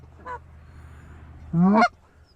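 Two Canada goose honks, a short faint one followed by a louder, longer honk, over a low steady background rumble, during a goose hunt.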